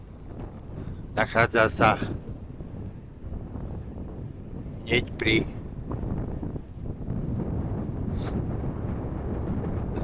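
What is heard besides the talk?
wind blowing on a cycling route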